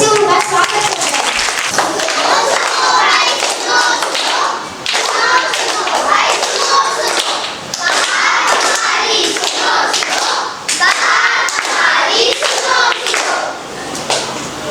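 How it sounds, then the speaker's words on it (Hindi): Audience at a Hindi Day school event clapping to welcome fourth-grade students onto the stage, steady dense clapping that stays loud for the whole stretch with children's voices and a few thumps mixed in. "जोरदार तालियों से उनका स्वागत करते हैं।"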